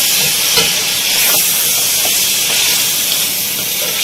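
Chopped tomatoes frying with mutton and onions in a pot for aloo gosht, giving a steady, close hiss and sizzle with a few faint scrapes of stirring throughout.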